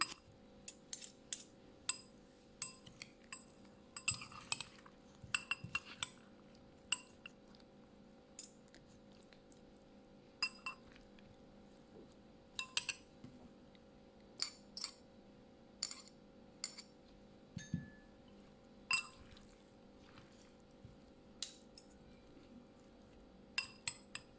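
Kinilaw, a Filipino ceviche, being mixed in a bowl, with faint, irregular clinks of a utensil against the bowl over a quiet background hum.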